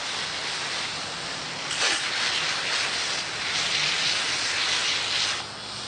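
Steady, loud hissing spray of a pressurized water jet cleaning a bicycle's chainring and drivetrain, rising briefly in intensity a couple of times before easing off near the end.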